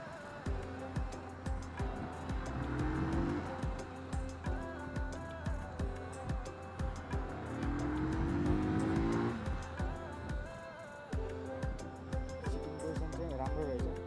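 Benelli 180S motorcycle engine on a test ride, a steady nearby drone with repeated rising revs and gear changes, rhythmic pulses of acceleration, and someone talking over it.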